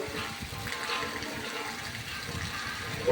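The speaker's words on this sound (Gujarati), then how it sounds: "અંધરાધારો વરસાદ આવે છે" Heavy torrential monsoon rain pours down in a continuous dense wash of water noise, steady and loud throughout with no pauses.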